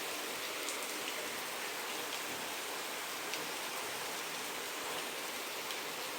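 Steady, even rain hisses continuously, with faint patters of drops hitting surfaces and no voices.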